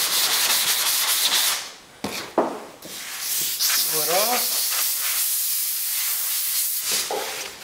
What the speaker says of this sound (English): as you work through the sanding process